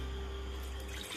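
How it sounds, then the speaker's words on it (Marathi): A glass of water pours into a pressure cooker in a home kitchen, a short, faint, steady splashing stream with no voices. "कुकरमध्ये 1 ग्लास पाणी घालायचं ना."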